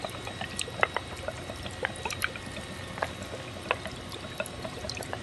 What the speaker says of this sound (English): it's delivering a steady flow of water to the clay pebbles